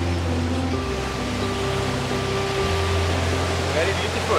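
Rushing water from a waterfall beneath a railway track near Gothenburg, Sweden, a steady loud broadband roar that fills the whole stretch without a break.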